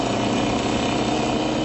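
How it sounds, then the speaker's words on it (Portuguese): A Famel moped engine runs at a steady, buzzing drone, loud and close, holding an even pitch throughout without any voices. "O barulho destes motores confunde-se com a história das estradas portuguesas."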